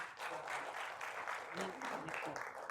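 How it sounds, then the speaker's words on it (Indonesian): Audience applause at a heart-health seminar at Siloam Hospital in Jakarta, a brief steady patter of clapping that sits fairly quiet, with a voice speaking over it. "tepuk tangan dong untuk Dr."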